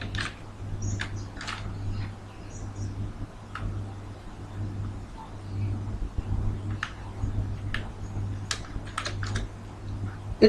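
Keys clatter on a computer keyboard in short bursts of typing separated by pauses, fairly close and quiet over a low steady hum, with no talk.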